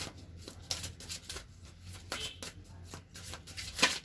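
Oracle cards are shuffled by hand before one is drawn: a quiet series of soft papery riffles and flicks in irregular bursts, close and gentle, with brief taps between them.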